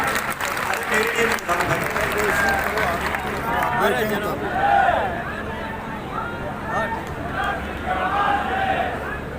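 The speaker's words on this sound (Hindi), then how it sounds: "जोरदार तालियां" Applause from an audience at a Meena community gathering in Madhya Pradesh, steady and fairly loud for about nine seconds, with crowd babble and voices running underneath.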